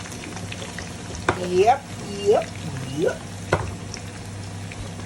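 Vegetables sizzling as they fry in a pan while cooking rendang, a steady crackle running under intermittent close talk and a few short clatters.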